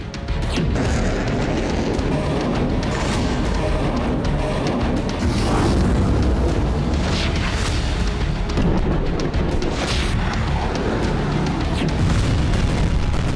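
Explosions from Russian rocket strikes at night on Klishchiivka, Ukraine, form a dense, continuous barrage of heavy booms and crashing blasts, loud and overlapping with no pause and no voices.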